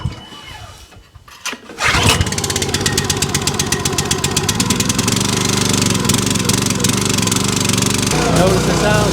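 A gas engine on a 27-ton log splitter fires up after a quiet moment, then runs loud and steady with a slightly uneven, missing beat from a carburetor that needs adjusting.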